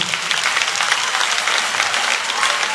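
Steady applause from a church congregation at a Sunday service, dense clapping sustained throughout with no pauses.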